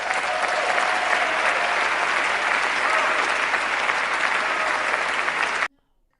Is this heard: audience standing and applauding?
yes